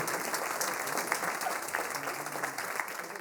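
Steady, thick applause from a crowd at an autumn wind-band concert fills the hall, continuous and fairly loud, with a faint voice briefly showing beneath the clapping.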